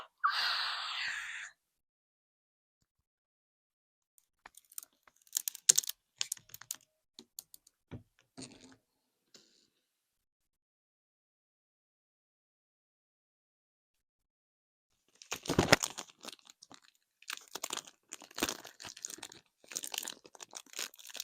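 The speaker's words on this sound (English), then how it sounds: "let's take the tape off" Tape peels off a US history school project in bursts of crackly, tearing rips, close and crisp, separated by long stretches of silence.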